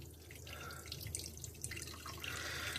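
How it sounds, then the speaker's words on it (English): A tap runs at low pressure, giving a thin, uneven trickle with spattering drips into a sink. The water stays quiet and steady for about three seconds with no talking. "this water is so fucking low on the pressure"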